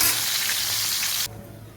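Cauliflower frying in hot oil, a bright, dense sizzle close up that holds steady and then drops away suddenly to quiet near the end.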